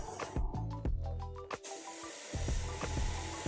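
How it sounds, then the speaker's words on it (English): An airbrush sprays a thin, watery paint mix onto a miniature crab carapace, giving repeated close hissing bursts of air that start and stop with short pauses between them. "I'm just going to start spraying this into the carapace."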